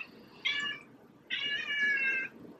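A house cat meows twice, a short call followed by a longer drawn-out meow, both close and clear over a quiet room.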